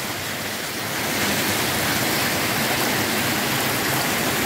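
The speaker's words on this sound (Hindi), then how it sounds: "9-10 दी रात का ही मीह पै रहा दोबारा फिर।" Heavy monsoon rain pours down at night in a village near Kurali, a dense, steady hiss of falling water that swells slightly after the first second and then holds loud and unbroken, with no voices.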